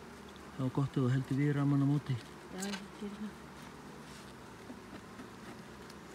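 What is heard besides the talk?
bees buzzing around beehive frames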